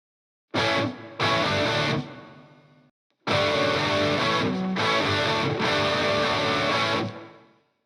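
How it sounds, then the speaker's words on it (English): Several layered distorted electric guitar parts play together in heavy, chugging bursts: a short two-part phrase, a brief gap, then a longer sustained run that fades out, loud and full with no talking. "you put all those guitars together"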